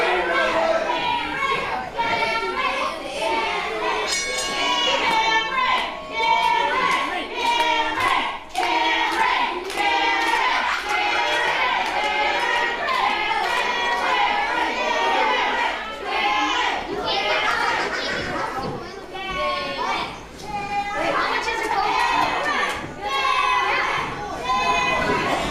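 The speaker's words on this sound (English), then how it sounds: "The crowd getting behind Cameron Saturn right now." A wrestling crowd at a live event cheers and claps steadily for Cameron Saturn, a dense wash of shouting, clapping and children's voices, with scattered louder bursts of applause throughout.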